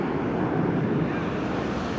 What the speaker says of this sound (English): got a bunch of airplanes flying